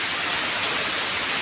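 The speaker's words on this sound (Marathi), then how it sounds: "तर पाऊस बघा काय जोरदार लागता आणि गाजता" Heavy April rain pours down in Konkan during a thunderstorm, making a loud, steady, dense wash of drumming water that continues unbroken throughout, with no voices.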